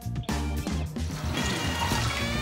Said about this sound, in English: Pour water into a pot.